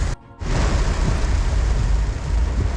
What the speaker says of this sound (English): And it's just been raining the whole time.